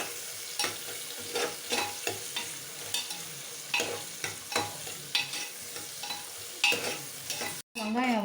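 Sliced onions and green chillies fry in a pan, a steady sizzle broken by repeated scraping stirs of a spoon, close and moderately loud.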